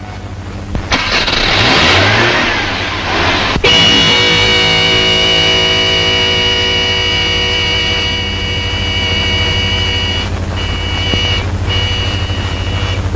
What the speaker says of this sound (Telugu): నువ్వు హారన్ శబ్దం చేసుకుంటూ వెళ్ళు.